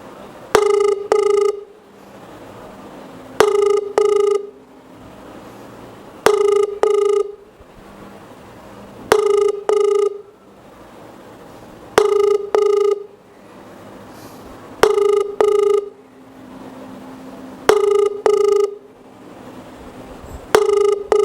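A telephone call to a Tamil TV talk-show number sounds a ringback tone: loud, steady, repeating tone bursts in a regular cycle about every three seconds, with no talking.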